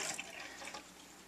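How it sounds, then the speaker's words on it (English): RV antifreeze poured into a camper sink drain during winterizing makes a soft, continuous trickle and gurgle close by, fairly quiet and steady, with no talking. "Pour a little bit in this one."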